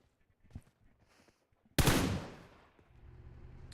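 Gunfire in PUBG Mobile during a tournament match, a single loud sharp shot that decays into a long echoing tail, preceded by faint quiet sounds and followed by low rumbling noise.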